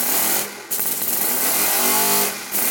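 A Lego air-powered engine driving a generator roars with loud, steady hissing air and a whirring, revving tone that rises mid-run, close and continuous, with brief dips in the rush of air.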